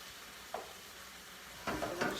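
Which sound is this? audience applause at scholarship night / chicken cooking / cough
chicken cooking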